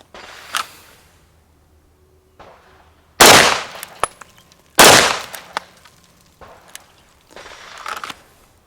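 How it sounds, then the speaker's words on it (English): Pistol gunshots fired in pairs at targets on a shooting range, with sharp, loud cracks ringing out at well-spaced intervals and fainter shots and clicks between them. "You could draw and fire 2 on each target out there, and that's what we're going to do right now."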